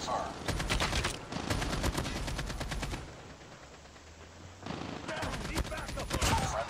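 Rapid bursts of AK-47 fire in the mobile shooter Call of Duty Mobile, loud and close, in two long strings split by a short lull of quieter background.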